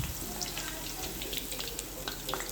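Okra chips frying in oil, spread apart in the pan, give off a dense, constant crackling sizzle with tiny pops throughout and no speech.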